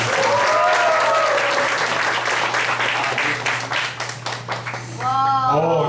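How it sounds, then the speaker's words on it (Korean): An audience at a lecture event applauds with a dense wash of clapping that thins toward the end, while a voice speaks over it and a few short musical tones sound near the close. "큰 박수 한번 부탁드립니다"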